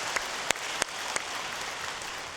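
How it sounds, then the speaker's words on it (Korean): A church congregation gives brief applause to thank the worship team, heard as a few sharp claps over a soft, diffuse wash of clapping that fades quickly in a reverberant hall. "우리 수고한 손길들 박수로 격려하겠습니다"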